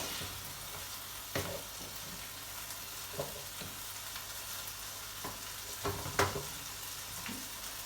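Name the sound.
food being stirred and frying on the stove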